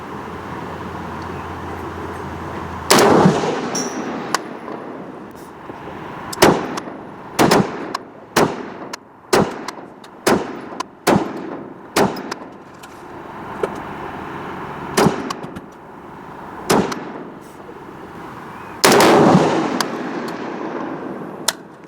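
CIS SAR-80 rifle fired at a 300 m range, a series of sharp, loud single shots spaced a second or two apart, each cracking close by with a brief echo tail.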